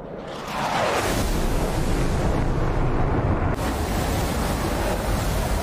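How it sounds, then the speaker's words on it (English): Anti-ship missiles lift off in a naval combat game, among them Russian P-700 and Kh-22 types, as a loud, steady roaring rush with a sharp new surge partway through, unbroken and free of speech. "Aha, missiles away."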